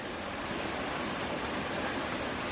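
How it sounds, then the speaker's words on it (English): A small waterfall on a forested railroad trail in the Blue Ridge gives a steady, dense rush of falling water, close and continuous with no pauses and no voices. "The unmistakable sound of a small waterfall."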